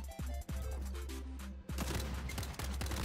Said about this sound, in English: I don't know what weapon this is, I'm just shooting